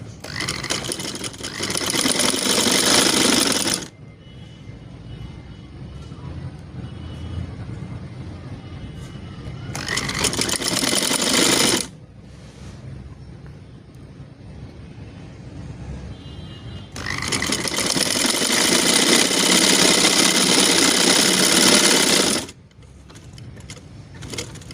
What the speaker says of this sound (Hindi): तो चलिए अब सिलाई कर लेते हैं